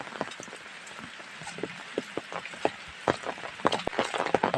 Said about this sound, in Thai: บ่มีท่าที่จะยุดเลยฝน